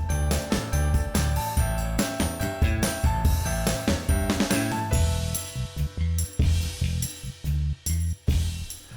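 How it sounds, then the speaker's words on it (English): Middle rack of a 2020-redesign dishwasher being raised and lowered, a busy run of metallic ratcheting clicks, clinks and rattles, close and fairly loud, with brief pauses between movements. "you can raise or lower the middle rack to fit tall items in either the middle or bottom rack"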